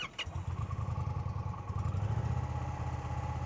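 A motorcycle engine starts and settles into a steady, fairly quiet idle with an even pulsing rhythm.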